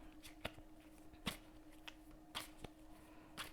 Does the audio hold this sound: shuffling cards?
yes